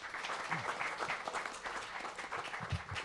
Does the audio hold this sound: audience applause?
yes